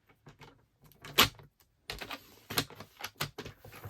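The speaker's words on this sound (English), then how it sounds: "I'm going to cut this down to 2 inches" White card is cut down to size with a paper trimmer, giving a string of short, close clicks and sliding scrapes, the busiest stretch coming toward the end.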